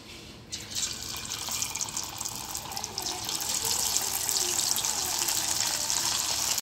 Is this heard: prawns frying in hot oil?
yes